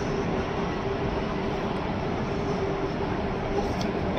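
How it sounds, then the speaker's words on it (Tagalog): A train runs with a steady, loud rumble and rail noise throughout, with no voices heard. "Sasakay tayo ng train."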